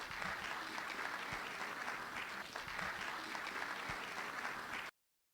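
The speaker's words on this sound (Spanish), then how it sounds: "Un aplauso, por favor." A pediatrics conference audience gives steady, dense clapping at a monthly award session in Tijuana, holding evenly for about five seconds before cutting off abruptly.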